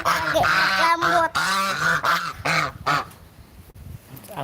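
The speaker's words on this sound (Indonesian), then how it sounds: "Angsa, kamu mau bilang apa sih?" A goose honking repeatedly up close, a run of loud nasal honks in an uneven rhythm that fade into quieter background sound near the end.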